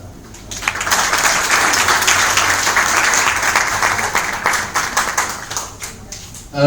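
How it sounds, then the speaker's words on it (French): Audience at a natural hair day meetup in Douala, Cameroon applauds steadily for a presenter, a dense sustained burst of clapping lasting several seconds before tapering off. "Donc je vous demande d'applaudir pour Banaken"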